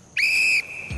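A single sharp referee-style whistle blast starts a game on the 1990 Christmas special of The Crystal Maze, loud, close and steady for about half a second, outdoors by a river.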